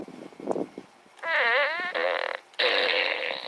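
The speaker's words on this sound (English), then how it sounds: "Hide the fart gun and make the noise." Two long electronic fart blasts from a toy fart gun ring out loud and close, one warbling and sliding in pitch, following a few soft murmurs at the start.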